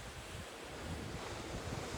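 Ocean waves in the middle of the Pacific heard from a cruising boat, a steady broad wash of surf mixed with wind buffeting the microphone, continuous and even throughout.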